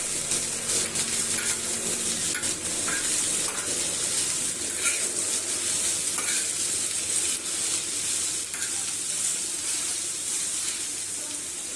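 Vegetables fry in a pan with a constant hissing sizzle and faint crackles running throughout, close and even, with no voices.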